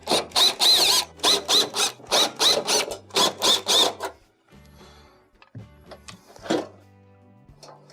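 Screws come out of a Samsung stove top panel in a quick series of sharp ratcheting clicks from a nearby tool, then quieter scattered handling clunks and a faint rattle.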